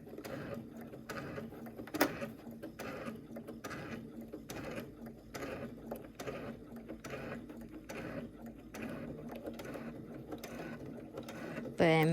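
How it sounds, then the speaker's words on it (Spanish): A home sewing machine, used in place of an industrial one, stitches a cosmetic bag with a steady, rapid mechanical whirr and rhythmic needle clatter, strained-sounding, with a sharp click near the start and a brief voice at the end. "mi máquina de coser está sufriendo un poquito, ya que no estoy utilizando mi máquina industrial."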